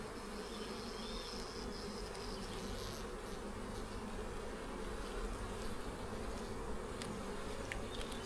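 A dense, steady hum of honey bees drones over an open hive of a strong colony while the frames of honey are inspected, the close buzzing continuous and even throughout, with no talking.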